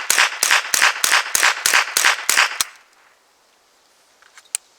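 A .22LR semi-automatic rifle fires about eight sharp, cracking shots in quick, even succession, close and loud. A quiet pause follows, then one last faint click.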